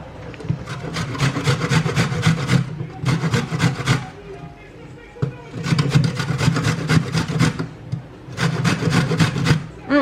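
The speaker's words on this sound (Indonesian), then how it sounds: "Oke, kita parut seperti biasa." Rhythmic rasping strokes of a grater scraping squash back and forth in fast bursts, with short pauses between rounds, close and fairly loud.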